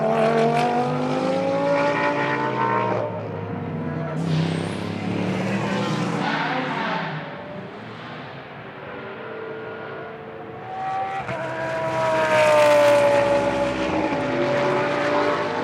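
GT race car at Blancpain Sprint Series free practice in Moscow, the engine roaring loud and close as it revs up and down through a fast sequence of corners, with commentary running over it.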